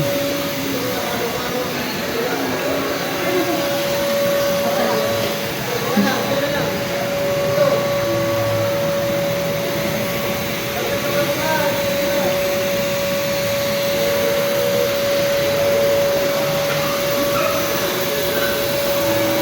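A wheeled vacuum cleaner drones on without pause, loud and close, its steady whine holding while faint voices murmur underneath.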